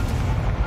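A Confringo fire spell explodes in Hogwarts Legacy: a short, loud, booming blast with a heavy low rumble that fills the whole moment.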